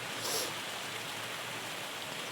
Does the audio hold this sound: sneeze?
no